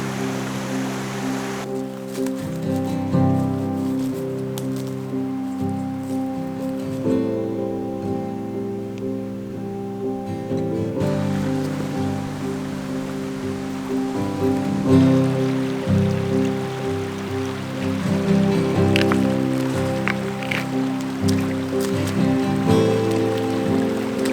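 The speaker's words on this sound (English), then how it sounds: "our first river crossing of today" Water rushes and splashes steadily as hikers wade across a river on a multi-day trout fishing and wild camping trip, a continuous close wash of flowing water with shifting surges and no talk.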